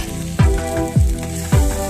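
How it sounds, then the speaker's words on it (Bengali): Potatoes tossed into spices frying in a pan for a vegetarian dish make a loud, close sizzle, broken by three evenly spaced low scraping thuds as they are stirred. "এতে আমি আলুগুলো দিয়ে দিলাম।"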